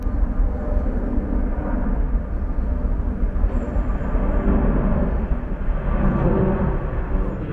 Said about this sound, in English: there's a massive plane coming.